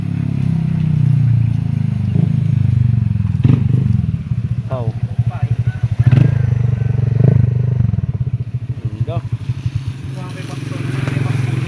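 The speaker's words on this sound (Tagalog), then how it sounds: "Yan guys, ganyan yung tunog niya guys pag walang silencer." A motorcycle fitted with a Zeus Apollo v3 exhaust pipe and no silencer idles with a loud, raspy rumble, then blips and revs in choppy bursts close by, while people talk over the engine.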